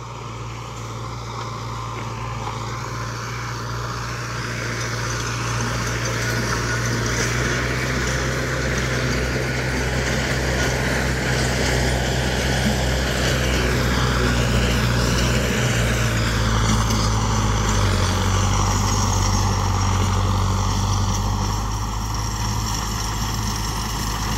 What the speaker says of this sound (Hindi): भाई ये ट्रैक्टर चल रहा था मीडियम का दूसरे में